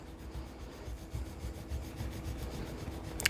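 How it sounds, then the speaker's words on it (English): A scraper tool burnishing a Cricut vinyl design makes a soft, low, continuous rubbing scrape with faint repeated strokes, quiet and close, ending in a brief sharper click. "we'll get our scraper tool and burnish this like crazy"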